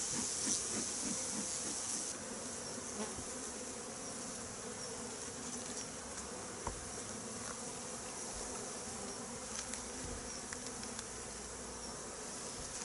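Honeybees in an opened hive being readied for winter hum in a dense, continuous buzz that stays steady and fairly near throughout, with no one speaking.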